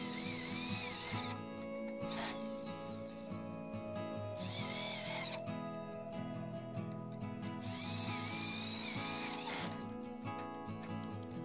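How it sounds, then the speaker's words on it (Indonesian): Power drill driving light-steel (baja ringan) roofing bolts into a post of a house terrace roof frame, a whining motor in several separate bursts of a second or two each, close and loud throughout. "Kita pasang lagi baut nirambol, dan untuk di bagian tiangnya kita tambahkan baut baja ringan."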